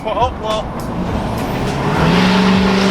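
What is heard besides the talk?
Mazda Miata exhaust reflecting off a wall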